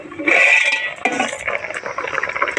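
Metal pot lid lifted off a cooking pot in a village kitchen, a short ringing clank followed by scraping and rattling as it is set aside, close and clear with no talk.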